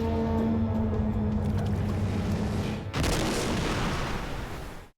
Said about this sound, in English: testing his team's abilities underwater, which causes a large explosion in the pool